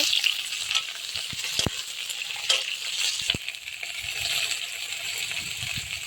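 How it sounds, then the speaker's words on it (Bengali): Potato and eggplant fry in a pan while being stirred, a close, steady sizzle broken by sharp metallic clinks of the utensil against the pan, with no speech. "আলুটাকে নেড়ে চেড়ে নেওয়ার পরে বেগুন দিয়ে দেবো বেগুনটাকে ভালো করে ভেজে নেবো"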